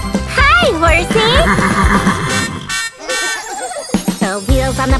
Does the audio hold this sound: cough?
no